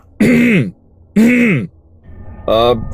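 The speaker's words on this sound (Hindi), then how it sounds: "गला साफ किया" A person clears their throat three times, close and loud, each a short voiced rasp with brief pauses between.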